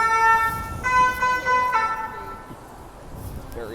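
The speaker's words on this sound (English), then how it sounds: "very loud ambulance." A loud ambulance siren blares with a piercing tone that fades away after a couple of seconds, while someone talks underneath.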